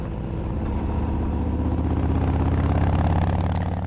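A 2018 Harley-Davidson Fat Bob 114 motorcycle rides up a mountain highway, its big engine giving a steady low, throbbing rumble with wind noise, close and continuous.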